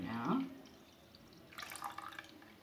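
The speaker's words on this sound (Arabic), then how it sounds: "يمشي لنا العصير تصفيوه مزيان صافي على هذا الشكل" Homemade mixed fruit juice with lemon trickles and splashes through a strainer, a brief liquid pour at the start followed by softer dripping and splattering close by, with quiet talk in the background.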